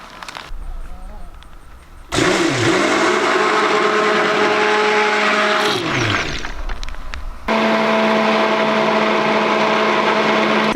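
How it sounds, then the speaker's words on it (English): An immersion blender whirs through bacon grease soap mixture in bursts, its motor pitch dipping and rising under load, loud and close, with brief pauses between runs. "The oil is nice and deep, and therefore the immersion blender will not splash through it."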